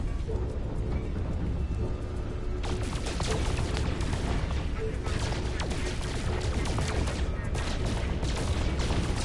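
Rapid bursts of gunfire at pirates in No Man's Sky crackle and pop densely over a rumbling engine-like drone, loud and sustained after a quieter opening.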